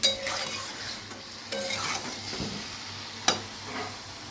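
Goat fat is stirred and sautéed in a pan, a soft steady sizzle broken by a few sharp clinks and scrapes of a spoon against the metal, with no voices.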